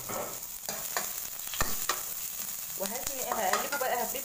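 Chopped onion with rosemary, bay leaves and thyme being stirred and spread in a hot pan, a steady close sizzle with scraping and clinking utensil strokes, no voices.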